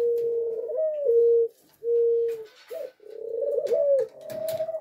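Pet ringneck doves give clear, close cooing calls in several drawn-out phrases separated by short pauses, the soft rolling coos repeating alone without any talk.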